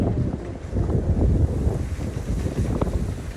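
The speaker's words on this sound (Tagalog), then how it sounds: "Ang lakas ng ano guys, hangin" Strong wind buffets a microphone outdoors, a loud, continuous low rumbling roar with gusty fluctuations and no talking.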